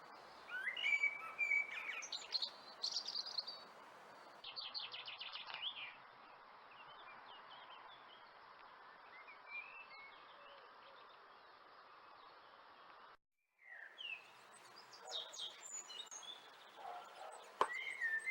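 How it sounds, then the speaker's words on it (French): A male blackbird sings loudly from a branch overlooking a spring garden during the breeding season: clear, fluting phrases and chirps come in bursts with short pauses, moderately near, over a faint background of other small birds and insects. "Il se place sur une branche dominant le jardin et chante à tue-tête matins et soirs"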